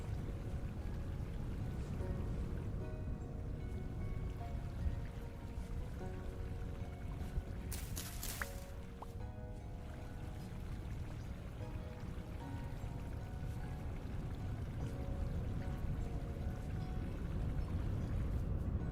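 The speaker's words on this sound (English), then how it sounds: "This is just a waterfall that came straight down to begin with." A waterfall in the video game Vintage Story, falling straight down into a stream, giving a soft, continuous pouring and splashing hiss that stays steady for the whole stretch, with one brief brighter burst midway.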